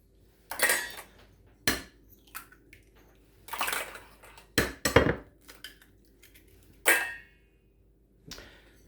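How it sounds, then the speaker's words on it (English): Five eggs cracked one after another against a bowl, sharp separate taps and clinks with short pauses between them, close and clear with no talking. "break each egg."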